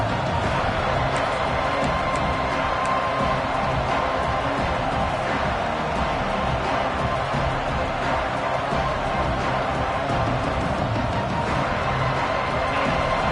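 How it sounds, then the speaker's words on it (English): Football stadium crowd at a Lions versus Wolverines game, a dense, sustained roar of many voices swelling steadily with no break, loud and continuous throughout. "This crowd rising up, sensing that its defense needs some help."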